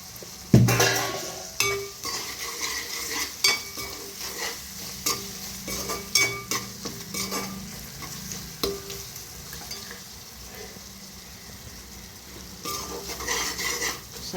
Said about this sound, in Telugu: చక్కగా వేగినాయి కదండి నూనెలో.